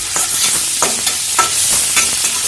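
Curry leaves are stirred in a hot pan, a steady sizzle broken by repeated scraping strokes of a spoon in a regular rhythm, close and without talk.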